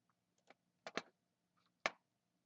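A computer mouse clicks a few times in quick, sparse taps at a desk while working in SketchUp, crisp and close in a quiet room with no voice.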